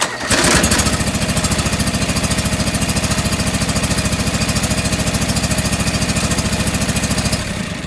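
A John Deere 445 lawn tractor engine idles too low, with a loud, close, rapid, steady pulsing chug throughout and a brief surge near the start.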